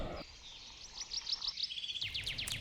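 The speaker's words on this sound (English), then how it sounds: "a beautiful morning with the birds singing" Birds sing on a morning campsite, with a quick series of close, bright chirps and whistled notes that come in bursts, the calls growing busier and louder at the end.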